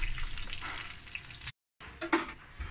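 Stuffed tinda (round gourds) fry in hot masala oil with a dense, continuous close-up sizzle, broken by a brief silent gap before the hiss and a few bubbling pops resume.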